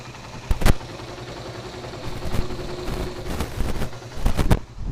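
A Suzuki Satria FU motorcycle engine idles while being warmed up, a low steady rumble with light clattering and a few louder bursts, fairly close.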